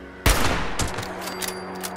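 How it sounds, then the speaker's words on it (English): Gunfire in Fallout 76 opens with a sharp, loud burst of shots, then a second smaller volley follows moments later and fades into a lingering echoing tail. "Is there shooting at something?"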